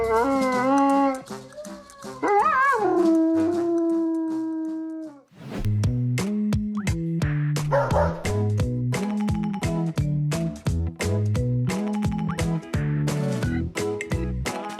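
A dog howls in long, wavering, sung-sounding notes that rise and fall, then gives way to loud, rhythmic music with a steady beat for the rest of the clip.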